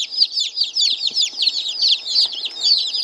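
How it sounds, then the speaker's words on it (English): Yellow Buff Orpington chicks peep in a rapid, continuous chorus of high, close chirps, with no talk. "We have 5 Buff Orpingtons. They're the yellow chicks."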